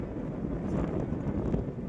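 Strong monsoon wind buffets the open hillside where sheep are herded in the rainy season, a continuous rough rumble of gusts hitting the microphone, close and loud, with no talk.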